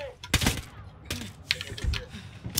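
Gunfire in the video game Ghost Recon Wildlands: several sharp, scattered shots and clattering bursts at close range, irregular in rhythm, with some talking mixed in.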